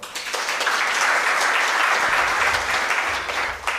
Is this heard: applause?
yes